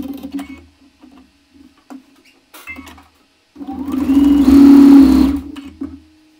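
Sewing machine stitching quilt blocks together for a gift box quilt: light taps and short bursts at first, then a steady loud whirring run of a couple of seconds that stops abruptly.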